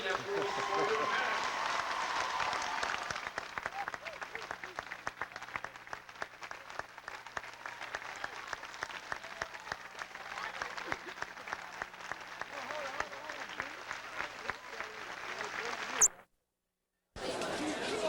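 Graduation audience applause for parents and families fills a large ceremony hall, a long sustained wash of clapping from many hands that runs on for several seconds before cutting off abruptly.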